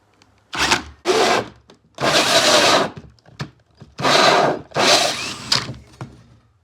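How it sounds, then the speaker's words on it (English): A power drill bores into wood while building a cornhole board, cutting in several loud grinding bursts of about a second each, separated by short pauses, close up with no talking. "once it's in the hole, we're just going to start drilling."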